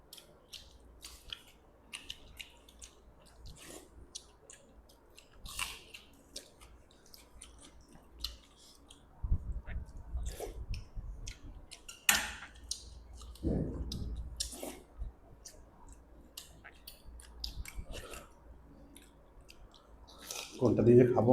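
Close chewing of chicken pakora with panta bhat, soft wet mouth sounds and clicks scattered through a quiet room, with occasional louder bursts and brief speech.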